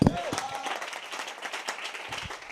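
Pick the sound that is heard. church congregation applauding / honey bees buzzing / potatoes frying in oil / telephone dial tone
church congregation applauding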